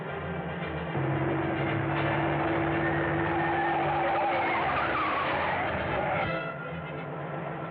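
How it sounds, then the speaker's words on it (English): A car in an old radio drama sweeps by with engine hum and a tire-squeal whoosh rising and fading over several seconds, heard alone without dialogue. "That car in back of us seems to be sticking on our tail."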